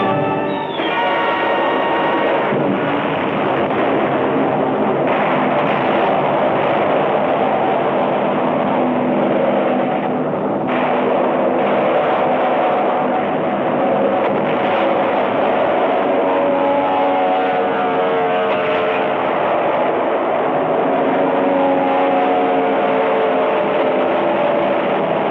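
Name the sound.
Japanese fighter planes and bombers in WWII combat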